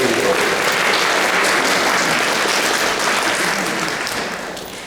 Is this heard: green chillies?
no